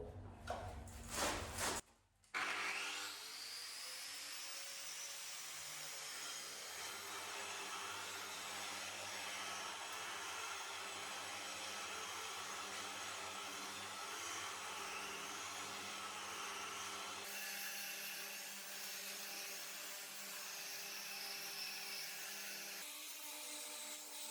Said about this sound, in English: Now we've finished the first and the major grind with the big wheel, the concrete cutting wheel